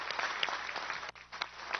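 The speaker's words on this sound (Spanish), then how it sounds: "Un aplauso desde aquí, desde el Palacio Presidencial de Miraflores," Applause from the Presidential Council of the Communes in Venezuela, gathered at Miraflores Presidential Palace, a steady wash of clapping from a group that dips briefly and then resumes.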